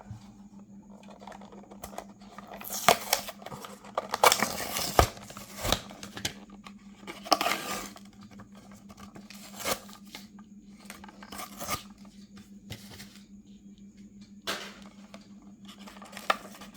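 Packaging of a Majorette Porsche 718 Boxster toy car being opened, with irregular crinkling, tearing and snipping bursts separated by quiet pauses, close and fairly loud.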